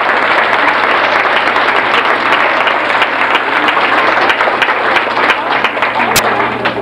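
Sustained applause from an outdoor crowd at a village cultural festival in Ranchos de Arriba, Nayarit, steady dense clapping held throughout with faint voices mixed in.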